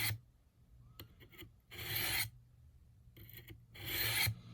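A knife being sharpened on the rough diamond plate of a Work Sharp Ken Onion benchtop angle-set sharpener: four loud, close grinding rasps separated by short quiet pauses and light taps.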